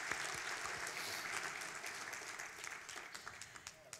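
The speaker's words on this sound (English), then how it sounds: "But let's give them another round of applause." Crowd applause at a neighborhood awards ceremony, a full roar of clapping at the start that gradually thins into scattered, separate claps, with faint voices underneath.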